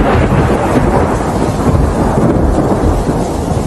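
Heavy rain pouring down over a city with deep rumbling thunder, a loud, unbroken roar that stays dense and close throughout, with no one speaking.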